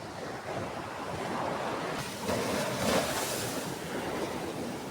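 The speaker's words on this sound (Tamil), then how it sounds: "சாய்ந்தமருது கடல் பிரதேசத்தினூடாக நாங்கள் தற்போது சென்று கொண்டிருக்கிறோம்." Sea waves along the coast at Sainthamaruthu, Sri Lanka, recorded while walking the shoreline: a steady wash of surf with gusty wind noise, a couple of swells rising briefly louder midway, no voices.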